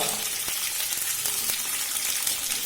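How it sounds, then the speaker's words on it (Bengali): Capsicum frying in a pan for a biryani, giving a steady, moderately quiet hiss and sizzle with a few faint clicks and no talking. "ক্যাপসিকামটা ভাজা হোক।"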